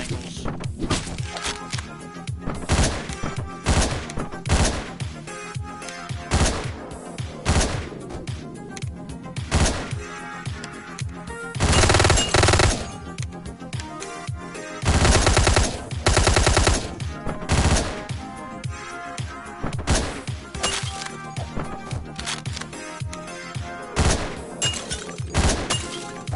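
Rapid gunfire rattles through the Hotline Miami video game in repeated bursts, with louder sustained volleys and sharp breaking and crunching impacts, dense and close throughout.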